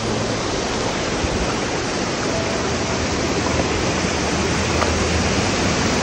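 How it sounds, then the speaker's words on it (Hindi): A large waterfall in a valley roars as a dense, continuous rush of falling water, loud and unchanging throughout, with no voices. "ये है सेकंड वाटरफॉल और ये भी काफ़ी बड़ा वाटरफॉल है"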